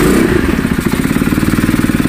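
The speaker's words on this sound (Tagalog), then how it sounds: "Anong sound niya mga ka-shoutout pag idle siya, no? Ganda yung bass sound, hindi parang lata baga." A Rusi Sigma 250 motorcycle fitted with an SC Project exhaust idles close by, a steady deep bassy putter with a rapid even pulse, alone without voices.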